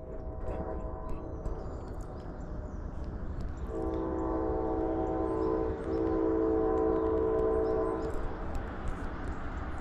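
A Norfolk Southern freight train led by AC44C6M and ES44DC locomotives rolls past at sunrise, a steady rumbling roar with a long sustained horn blast sounding in the middle and ending after a few seconds.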